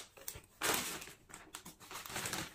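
A mailed plastic parcel from Lululemon Australia being opened at close range, with crinkling and crumpling of the wrapping in short bursts and one longer rustle.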